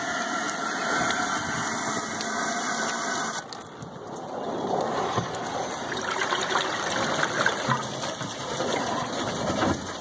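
Water rushes at full speed through gold sluice tubes, a steady gushing hiss that surges louder partway through and keeps running continuously up close.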